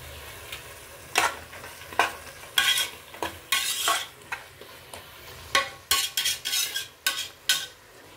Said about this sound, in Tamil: இது நல்லா அப்படி மிக்ஸ் பண்ணிக்கோங்க